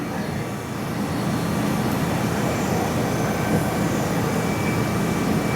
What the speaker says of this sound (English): furnace and compressor running in the shop today.